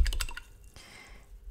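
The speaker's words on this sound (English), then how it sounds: "And then into my rinse water," A paint brush dipped and swished in a cup of rinse water while painting with acrylics, a short burst of wet dripping and squishing near the start followed by quiet.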